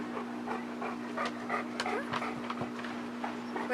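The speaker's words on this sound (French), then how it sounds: "mon chien Léo est ici en ce moment" Léo the dog panting steadily and close by, quick rhythmic breaths continuing throughout with a faint whimper or two and light indoor background noise.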